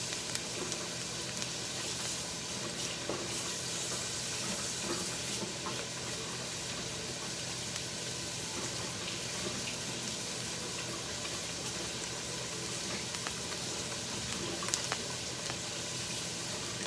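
Tap water runs steadily over pork chops in a sink, making a constant, fairly loud gushing splash with a few small knocks mixed in.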